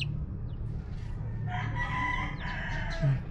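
A native Bisaya rooster crows once at moderate distance over a steady low rumble of background noise in a backyard farm.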